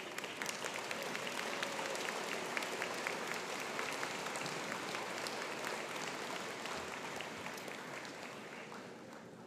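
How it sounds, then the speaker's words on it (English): An audience at a dental school white coat ceremony gives a sustained round of applause, a soft, even wash of clapping from a large room that fades slightly toward the end. "please stand and take a round of applause"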